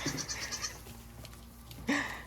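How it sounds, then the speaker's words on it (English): Goats bleat on a farm, several short calls at the start followed by one louder, rising bleat close by near the end, with quieter rustling in between. "Goats everywhere."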